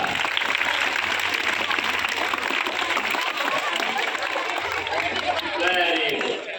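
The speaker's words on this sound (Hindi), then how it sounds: "तो क्लैपिंग कैसे करेंगे एक बार करके दिखाइएगा।" An audience of schoolchildren claps at a school magic show in Asmoli, a sustained burst of dense crowd applause mixed with chatter that carries on throughout at a fairly loud level.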